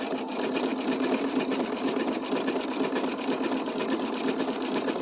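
A sewing machine runs steadily at a faster pace while stitching a blanket stitch around appliqué fabric, a continuous even whirring hum with no pauses throughout.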